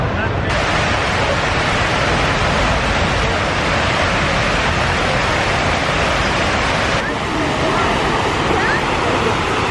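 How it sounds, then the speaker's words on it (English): Water pours steadily into the 9/11 Memorial fountain in Lower Manhattan, a loud, continuous rushing roar that fills the whole clip with no break. "And this fountain, this water, passes through the foundation of what was once one of the buildings."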